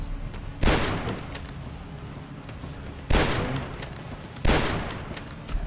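Turrets in the video game Dusk fire in three heavy, loud bursts spaced a second or two apart, each a sharp close blast with a decaying rumble between.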